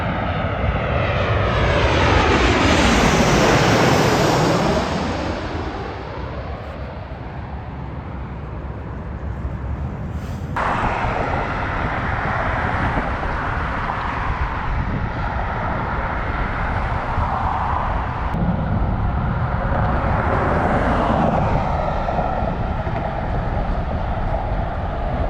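An airplane passes overhead near Las Vegas, its engine roar swelling loud and sweeping down in pitch as it flies by, then lingering as a steady, fading drone for many seconds.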